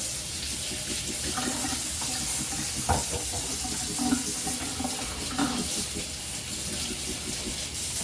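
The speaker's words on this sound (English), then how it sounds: "Go ahead and rinse off." A kitchen tap runs steadily into a sink while hands or utensils are rinsed after making a cookies and cream cheesecake, a continuous close splashing with small clatters.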